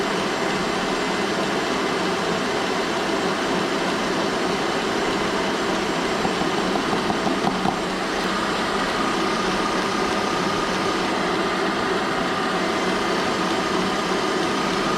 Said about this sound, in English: So we're whisking this now for a minute, just until we start to thicken.